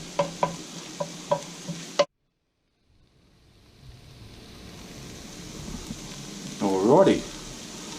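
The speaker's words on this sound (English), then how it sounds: "we're doing here is just cooking out this paste a little bit" Tomato paste for a goat casserole with juniper, sage and fennel cooks in a pot, a steady soft sizzle that builds after a few spoon knocks and a brief silence, with a voice talking over it near the end.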